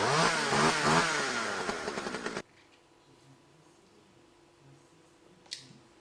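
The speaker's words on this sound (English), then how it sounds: "I like to rely upon the old chainsaw" Loud buzzing chainsaw engine running for a couple of seconds, then cutting off abruptly, leaving quiet background with a faint knock.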